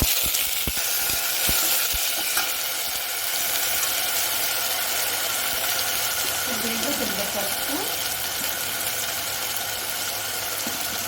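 Ginger, garlic and onion paste spits in hot oil with whole spices, making a dense, loud, continuous sizzle close by, with a few sharp clicks early on.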